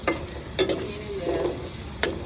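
Onions and mint sizzle in a pan under a soft, continuous fry, with a few sharp scrapes as a utensil stirs them; no talking.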